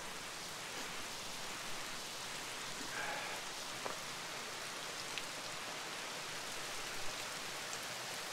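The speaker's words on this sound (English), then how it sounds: "it's pouring down rain and you can see it coming off the roof." Heavy torrential rain pours off a roof at a sawmill, a dense, steady wash of water with scattered drips and splashes, with no voices.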